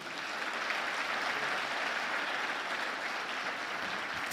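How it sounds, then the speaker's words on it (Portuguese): A church congregation applauds steadily and evenly for several seconds, a dense wash of clapping with no one speaking over it. "Vamos aplaudir Jesus"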